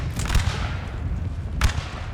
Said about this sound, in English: who are giving us supporting fire here